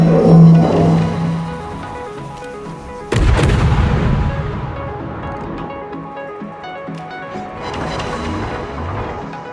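A German tier 8 destroyer, the Maerker, fires armour-piercing shell volleys in a naval combat game: a muffled boom early, then a sharp, loud cannon blast with a long rumbling decay, and a softer rumble near the end.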